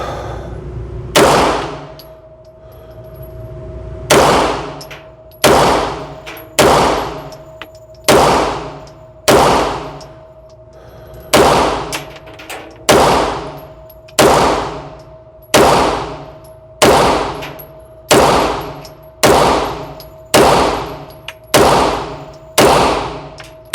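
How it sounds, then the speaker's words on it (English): Seventeen sharp shots from a Tisas Night Stalker 9mm pistol fired at about seven yards on a range, loud and close, in an uneven string of quick pairs and single shots with brief pauses between them. "17 rounds here of 9mm at about 7 yards"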